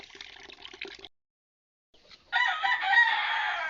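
Chicken sounds from a mother hen: a short burst of clucking, a pause of silence, then louder, sustained squawking calls nearby.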